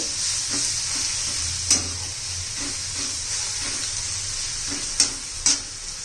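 Onion, tomato and spices with coriander powder sauté in a pan for zunka, a steady sizzle broken by soft, regular scrapes of stirring and a few sharper clinks of the utensil against the pan.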